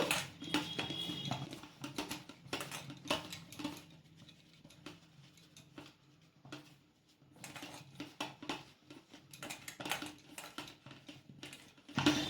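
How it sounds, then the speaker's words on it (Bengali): Mushrooms are mixed by hand with wheat flour in a bowl to clean them. Soft, irregular patters and light clinks come in bursts with short pauses, close and quiet, with no talk. "এরপর মাশরুমের সাথে ভালো করে মিশিয়ে নেব"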